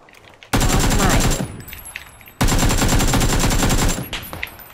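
Shooting-game gunfire rings out in two long, dense bursts of rapid automatic fire. The first starts about half a second in and the second near 2.4 seconds, loud and close, with brief quieter pauses and a faint voice in the background.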